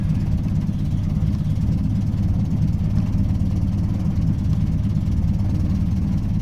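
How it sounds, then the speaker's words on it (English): A 1980 Land Rover Series 3 109 engine idles very slowly, a steady low rumbling drone that stays even and unbroken throughout, with no talking. "Okay, the charge light's on, but it's idling very, very slowly."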